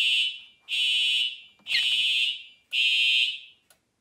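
A TrueAlert fire alarm horn sounding during a home fire alarm system test, four loud sustained blasts separated by short pauses, close and piercing.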